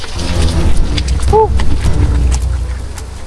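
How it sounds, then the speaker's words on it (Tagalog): Heavy tropical downpour during a lightning storm, a dense, loud roar of rain with low rumbling underneath and a brief tonal chirp partway through. "ganito po kalakas ang ulan dito ngayon"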